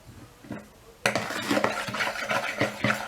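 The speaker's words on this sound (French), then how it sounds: "on va venir mélanger ça grossièrement" Pancake batter being mixed roughly in a bowl with a utensil, a quiet start and then brisk, rhythmic scraping and clinking against the bowl, close and alone.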